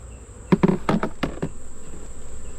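Bees buzz around an open beehive during a July inspection, with a steady close insect drone and a few louder passes of individual bees darting near.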